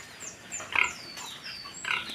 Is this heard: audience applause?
no